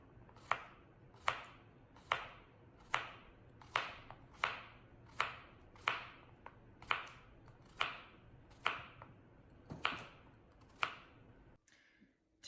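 A knife cuts a vegetable on a chopping board in about fifteen crisp, evenly spaced chops, slow and steady, close up and alone, then stops near the end.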